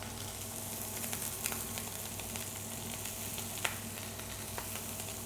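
Lamb seared in a hot pan for a Lamb Wellington, giving a steady close sizzle and fry with faint crackles and pops throughout, no talking.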